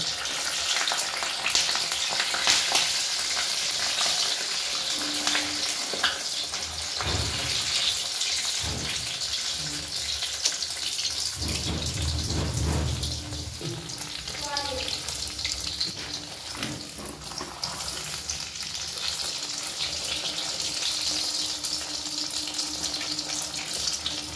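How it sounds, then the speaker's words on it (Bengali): Luchi stuffed with chhana fry in hot oil, giving a continuous bubbling sizzle throughout, with a few faint background voices and clinks. "এবার একে একে বেলে এইভাবে ছেড়ে দেব।"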